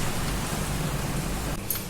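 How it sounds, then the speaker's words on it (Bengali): Steady, dense monsoon downpour hisses evenly throughout, a broad wash of falling water with no voices, close and continuous. "পুরো বৃষ্টি পড়ছে"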